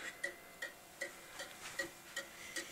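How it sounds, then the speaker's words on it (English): A loud pendulum clock ticks steadily and evenly, about seven close, crisp ticks at a regular beat with nothing else over them. "I'll start it ticking, and then I'll put the phone next to the clock so you can hear what I mean."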